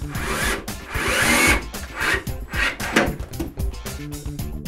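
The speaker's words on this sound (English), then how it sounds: "I drill pilot holes inside the dresser and screw the runners." A power drill bores pilot holes inside a wooden dresser for the drawer runners, giving several whirring bursts with the bit grinding into wood, loud and close in a workshop.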